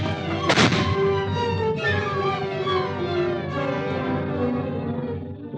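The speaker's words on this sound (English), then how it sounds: "He had a gun in his hand. He raised it." Gunshot sound effect in a suspense radio drama: a single sharp report near the start, cutting through a sustained orchestral music bed that carries on throughout at steady loudness.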